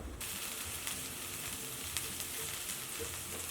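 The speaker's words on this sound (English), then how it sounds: "with vegetable oil and scallion, I'm going to cook this just a little bit" Kimchi and scallions fry in vegetable oil in a pan, giving a steady, close, crackling sizzle with a few sharper pops throughout.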